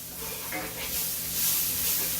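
Onions fry in a pan with a continuous, close hissing sizzle that swells slightly in brightness toward the end, with no talking over it.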